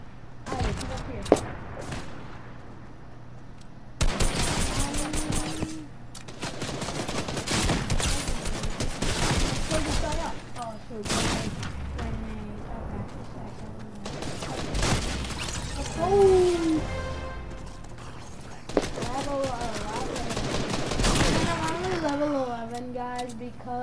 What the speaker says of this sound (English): we got some shooting over here